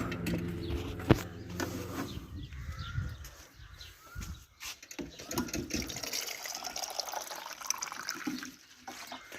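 Water is poured from a bottle into a small drinker in a pet cage, a gurgling, splashing trickle that comes and goes over several seconds, with a few soft knocks and faint room noise.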